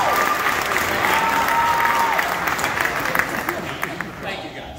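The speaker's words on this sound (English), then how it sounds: "So if everybody could, let's give a round of applause." Wedding guests applauding during a best man's speech, a dense round of clapping from a crowd filling the room, strong at first and gradually thinning toward the end, with faint voices underneath.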